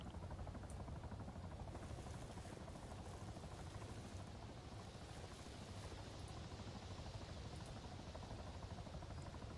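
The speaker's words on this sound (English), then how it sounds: "We can maybe wait for the chopper to do the mission" A helicopter in the military video game Arma 3 drones steadily and faintly in the distance, a continuous rotor rumble with a soft whooshing texture and no speech over it.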